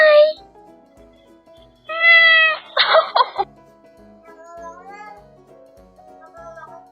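A cat lets out a run of varied, speech-like meows and drawn-out calls, close and loud, with a brief harsher yowl in the middle and quieter meows afterward over faint background ticking.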